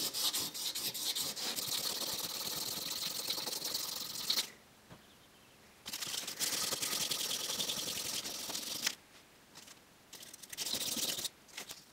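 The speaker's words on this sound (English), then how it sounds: "that final shape was just cleaned up with a bit of sandpaper" Sandpaper rubbed by hand over a homemade metal fly-rod snake guide, a close, steady rasping scratch in long bursts broken by two short quiet pauses, with no one talking.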